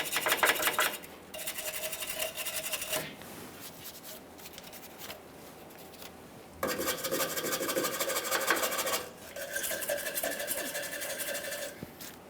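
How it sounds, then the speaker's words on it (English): Wire brush and sandpaper scrub the steel frame of a 2015-2020 Ford F-150 at the lower control arm area, giving rasping strokes in bursts with short pauses, close up and with no talk. "Use a wire brush, some sandpaper,"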